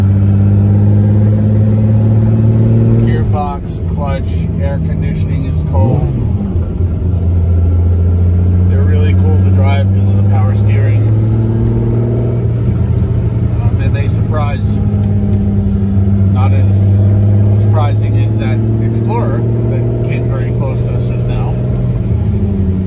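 The V12 engine of a 1972 Ferrari 365 GTC/4 drones and revs repeatedly, rising and falling in pitch as the car passes, loud and steady throughout.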